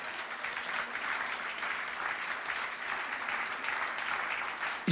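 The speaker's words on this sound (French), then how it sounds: "On peut applaudir le Seigneur?" A church congregation applauds steadily, a dense wash of many hands clapping that holds at an even level for several seconds.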